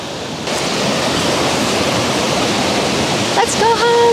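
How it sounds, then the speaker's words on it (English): A waterfall in Portugal pours with a loud, steady broadband rush that stays constant throughout, near and dense, with brief voices breaking in toward the end. "We just went out from this waterfall."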